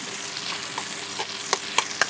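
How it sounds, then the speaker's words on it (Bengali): Fish oil frying in a pan for a lentil mash dish, a steady close sizzle with a few sharp crackling pops near the end, with no talking. "আমার তেল ভাজা প্রায় হয়ে গেল"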